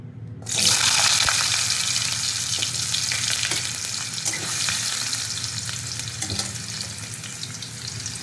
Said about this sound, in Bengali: তো এই তেলে এবার আলুটাও ভেজে নেবো।